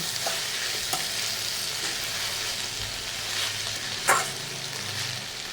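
Tender homegrown brinjal curry fries in a pan with a continuous, even sizzle, joined by soft stirring scrapes and one sharper utensil knock partway through.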